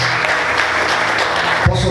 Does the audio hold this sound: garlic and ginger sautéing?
no